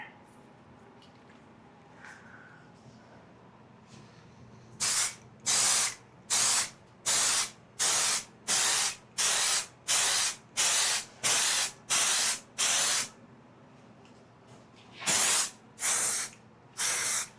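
A rapid series of about a dozen short, sharp aerosol bursts of penetrant sprayed onto the wood of an electric bass, evenly spaced, then a pause and three more, close and loud.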